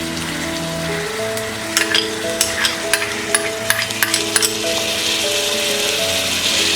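Carrots, capsicum and tomatoes being stirred in a frying pan while cooking broken-wheat dalia khichdi: a steady sizzle with a burst of sharp spatula clicks and scrapes in the middle, close and fairly loud.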